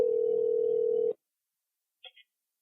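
A telephone dial tone holds steadily for about a second and then cuts off, followed by a short pair of faint tones after a pause.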